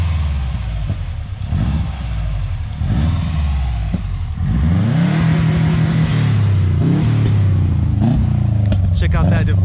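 A 2005 Subaru WRX STI engine with a carbon fiber exhaust shield revs up from idle, its rising pitch swelling and dipping in repeated pulls, loud and close, with people talking over it.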